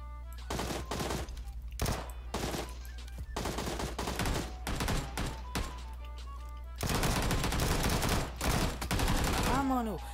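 Gunfire in the video game PUBG comes as repeated bursts of rapid automatic shots, with short pauses between volleys and a longer, denser burst near the end, loud and close.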